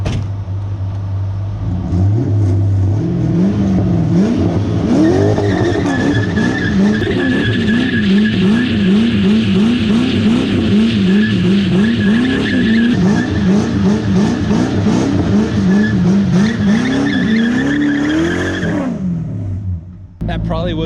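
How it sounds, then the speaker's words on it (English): Drift car doing a short burnout: a loud, steady engine roar with rising and falling revs and continuous tire squeal for about seventeen seconds, close up, then cutting off abruptly. "We're just gonna do a quick burnout."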